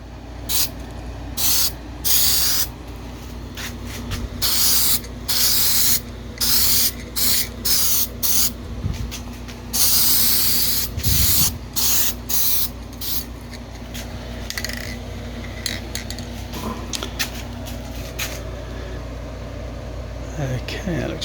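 Rapid bursts of aerosol spray paint hiss onto a welded storage bracket for a Toyota 4Runner, a dense run of short close sprays followed by a longer continuous blast, then quieter gaps with faint handling noises.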